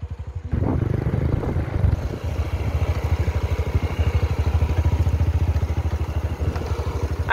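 A small motorcycle engine revs and accelerates close by, pulsing in a rapid, steady rhythm that rises and holds for several seconds after a quieter idle at the start, with no talk over it.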